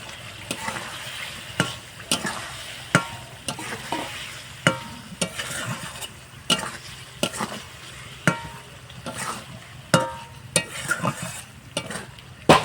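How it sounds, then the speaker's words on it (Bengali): Boiled egg pieces are stirred and fried in a thick spice masala, a constant close sizzle broken by regular scraping knocks of the spoon against the pan, roughly one every second, with no voices. "এবার আমি ডিমের এই পিসগুলো দিয়ে দিচ্ছি"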